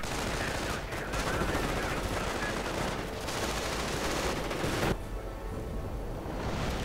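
Dense gunfire and grenade blasts from a World War II strategy game battle, with rangers and riflemen advancing; a continuous, busy crackle of shots and bursts runs throughout at steady loudness, dipping briefly near the end.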